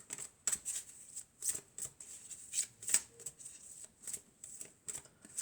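Tarot cards are shuffled and drawn in a quiet room, giving a string of crisp riffling bursts and flicks with short pauses between them, close and fairly soft.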